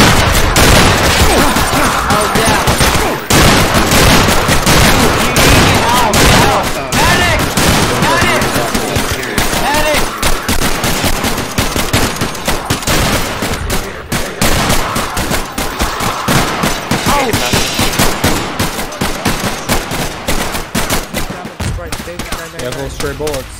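Dense, continuous gunfire from the video game Atlas Uprising, rapid overlapping shots and bursts filling the whole stretch at high loudness, with players talking over the action.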